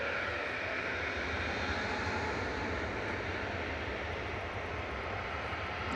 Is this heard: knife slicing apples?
no